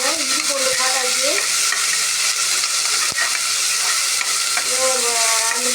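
Ginger and garlic fry in a pan for vegetable rice, a loud continuous sizzle and hiss up close with a few stirring scrapes and brief tonal squeaks mixed in.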